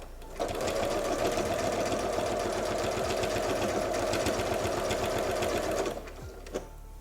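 A sewing machine quilting along a curved stitch line runs in one steady, loud, fast-chattering burst for several seconds, then stops with a brief click afterward.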